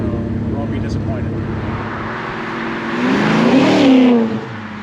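A fuel-injected 1967 Plymouth Belvedere II with a 360 cubic inch V8 drones steadily while driving, then swells into a louder acceleration before easing off, heard close from inside.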